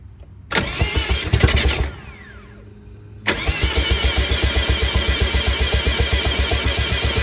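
A Turbo II swapped FC Mazda RX-7 rotary engine cranks, catches briefly and dies, then cranks again and fires into a loud, close, steady rhythmic idle with a pulsing exhaust beat.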